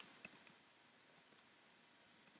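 Quiet, sparse clicks of someone typing on a computer keyboard, irregular light keystrokes close by and faint, with no talking.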